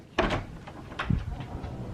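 A cat knocks and bumps against a door while waiting for food, giving a few close, sharp thumps and rattles spread over a couple of seconds, with no speech.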